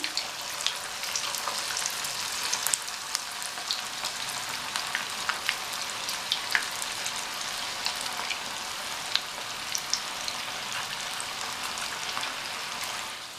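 Rava pakoda batter, pinched into shapeless bits, sizzles steadily in hot oil, with scattered sharp crackles and pops throughout. No one speaks over the frying.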